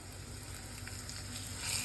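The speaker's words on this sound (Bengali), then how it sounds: "এবার একটু নাড়াচাড়া করে নিচ্ছি" Chili paste masala frying in a pan: a faint, steady sizzle and hiss that swells slightly toward the end.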